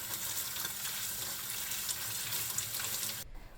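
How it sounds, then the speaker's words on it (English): Cooked udon noodles rinsed under running tap water in a sink, a steady broadband splashing rush that runs close and continuous, then cuts off abruptly near the end. "Drain the noodles and rinse them briefly with water."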